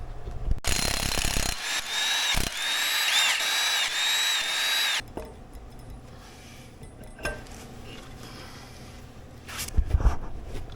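A power tool works on the flywheel of a Jeep Wrangler YJ 2.5L engine, giving a loud, close, high whine for a few seconds that stops abruptly, followed by quieter clinks and handling noises.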